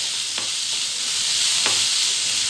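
Sliced onions fry in oil in a pan until soft for potato bonda, giving off a steady, dense hiss. Two quick scrapes of a spoon stir them, and there is no talking.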